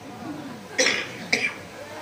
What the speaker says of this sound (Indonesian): Batuk eta ngaranna.